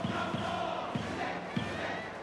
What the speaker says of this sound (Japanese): ひときわ大きな声援が聞こえます。